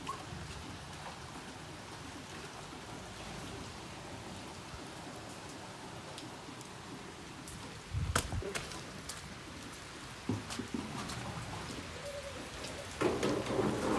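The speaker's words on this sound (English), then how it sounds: "It's raining." Steady rain falls near a construction zone in Jamaica, a constant hiss of drops on surfaces, with brief louder thumps and splashes toward the end; no voices.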